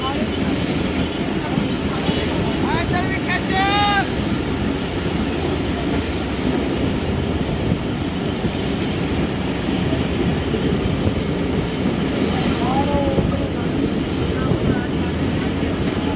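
The Allama Iqbal Express passenger train runs fast on the line from Karachi toward Raiwind. A steady, loud roar of wheels and carriages fills the whole stretch, with brief metallic wheel squeals rising above it.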